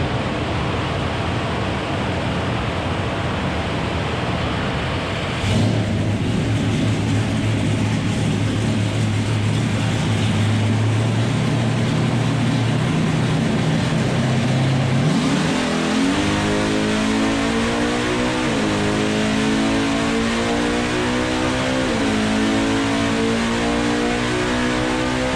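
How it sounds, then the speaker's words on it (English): Stock-appearing 1969 ZL1 Camaro making roughly 700 rear-wheel horsepower roars continuously through a full dyno pull, loud and close, with engine pitch climbing steadily and stepping through shifts as it winds up. "that last run you just watched was us making a complete quarter-mile pull on the dyno."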